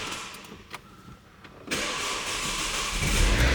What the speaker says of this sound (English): Hit the clutch, hit the start stop button.